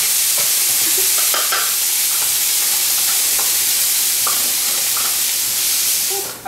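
Onions sizzling in a hot pan with a bright, continuous frying hiss, punctuated by scattered scraping clicks as they are stirred, close and loud.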